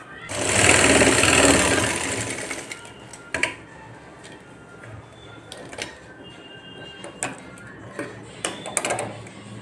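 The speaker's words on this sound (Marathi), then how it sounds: "आणि इकडचा पण शोल्डर शिवून घ्यायचा लगेच" A sewing machine stitches the shoulder seam of a katori blouse in one loud, rapid burst of needle rattle, followed by quieter scattered clicks and handling ticks.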